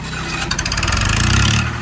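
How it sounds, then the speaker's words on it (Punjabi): A nearby generator engine cranks and catches, its rapid pulsing turning into a loud, steady running rumble within a couple of seconds. "ਲਓ ਜੀ ਜਨਰੇਟਰ ਚਲਾਤਾ"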